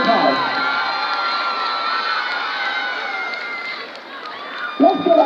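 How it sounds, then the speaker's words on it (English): A stadium crowd at a high school homecoming football game cheers, whoops and applauds for the homecoming court, a loud sustained roar of many voices that briefly dips before a fresh burst of shouting near the end. "Let's give our homecoming court another round of applause."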